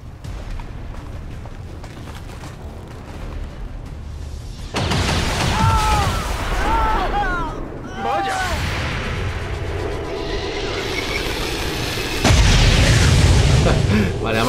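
XCOM 2 explosions boom one after another, heavy and loud, with rumbling blasts and whistling, chirping effects over a constant noisy battle background.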